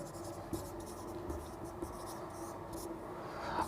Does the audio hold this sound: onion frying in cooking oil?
no